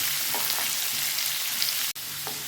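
Onions and green chilli sautéing in a pan give a steady, close sizzle throughout, broken by a brief dropout near the end, with faint scraping touches and no talking.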